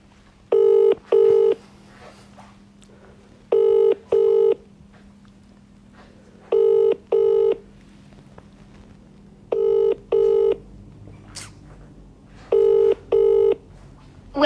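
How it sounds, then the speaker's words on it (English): A telephone keypad dials a number in paired DTMF beeps, five quick two-tone bursts spaced evenly over a faint steady hum, loud and clear with no talk. "So I will give him a call."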